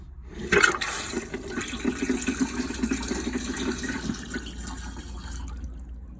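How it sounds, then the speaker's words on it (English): A Thetford Aquamagic Starlite RV toilet, freshly rebuilt with new seals, flushes with water still held in the bowl: a sudden close rush of water that swells quickly, then churns steadily for several seconds before cutting off, with no voices. "The bowl is still holding water, and we'll flush."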